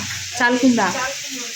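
Potatoes frying in a pan in a home kitchen give a steady close sizzle throughout, with a brief voice talking over it partway through.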